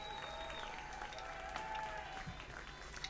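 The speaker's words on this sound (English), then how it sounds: "Behind me, I can hear the audience's cheers grow louder." A crowd cheers and applauds continuously in the video game Snoot Game, a dense wash of clapping and cheering heard at moderate distance throughout.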